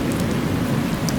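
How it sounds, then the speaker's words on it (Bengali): A stormy cartoon sound effect of heavy rain with thunder rumbles as a steady, loud wash of downpour and low rolling noise, alone without voices. "বাইরে প্রচণ্ড বাতাস বইছে"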